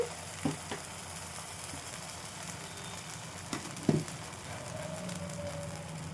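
A soft, steady sizzle of vegetable idli batter spreading like a dosa on a hot pan over low heat, with a couple of brief clinks and scrapes partway through. No one speaks.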